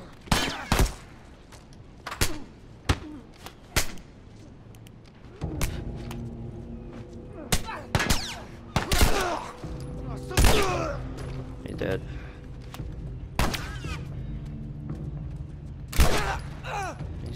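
Gunfire from The Last of Us Remastered: a series of sharp, loud single shots at irregular intervals, some in quick pairs, over a background game hum, with voices in between.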